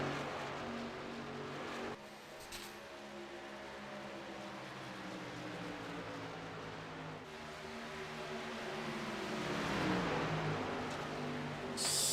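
Race cars at Texas speedway roar steadily down the back straightaway out of turn 2, a dense, continuous engine drone that swells louder as cars pass near, with no talking.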